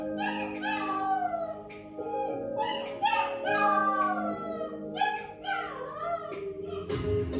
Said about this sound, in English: I'm sorry about the dog howling.